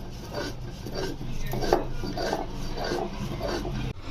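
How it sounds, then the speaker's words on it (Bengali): Cumin, mace, nutmeg and dried chilli ground on a stone slab, a steady close rasping scrape repeating in rough strokes with no talk over it. "জিরে, জয়িত্রী আর জায়ফল আর শুকনো লঙ্কা ভালো করে মিহি করে বেটে নিলাম।"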